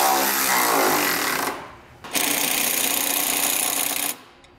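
A power tool with a socket drives down bolts on base plate hardware for a 2020 Buick Envision, two loud buzzing bursts of close whirring separated by a brief pause, with no talk.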